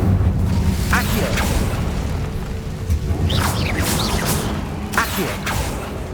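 Accio summoning spell pulling an object toward the caster in the video game Hogwarts Legacy: several short whooshing bursts and low rumbles over a steady game backdrop, with a voice shouting the spell.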